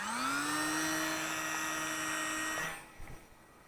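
A small electric motor on a 600mm Dancing Wings J3 FireBird Cub RC model plane whines steadily and loudly at half throttle during launch, then cuts off abruptly, followed by a couple of soft thumps.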